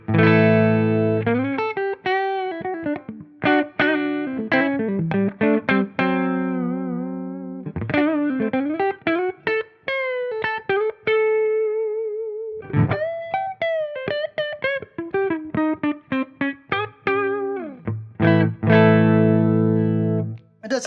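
Distorted electric guitar on the neck pickup plays a run of riffs and sustained notes, warm and thick in tone, with short pauses between phrases and no voices.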